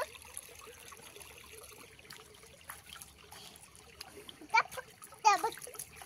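A child plays in a river on a cool morning, with faint trickling water underneath and a couple of sharp splashes near the end, while a voice and adult talk come through softly.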